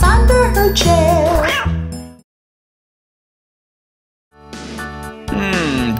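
A cartoon cat meows among bright nursery-rhyme music, its wavering cries rising over the tune in the first two seconds, then silence before the music returns.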